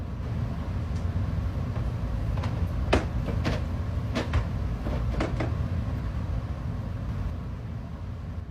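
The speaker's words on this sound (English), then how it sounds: "the unmistakable sound of footsteps moving around above him" Several sharp thuds and creaks come from overhead, scattered and irregular like footsteps, over a steady low rumble.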